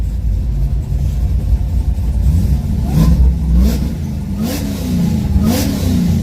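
A street truck engine revs repeatedly at a drag strip, rising and falling in pitch over a steady low rumble, loud and close with no talking.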